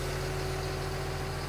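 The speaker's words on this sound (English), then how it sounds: "The forklift." A forklift engine idling nearby, a steady low, pulsing rumble with an even beat and nothing else over it.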